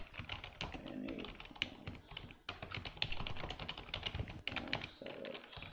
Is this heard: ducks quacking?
no